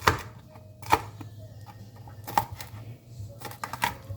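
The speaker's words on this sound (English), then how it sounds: "So now I'm going to cut up my green beans really small because I want them to be bite-sized." Knife chopping green beans small on a cutting board, a few sharp isolated cuts spaced apart over a low steady background hum.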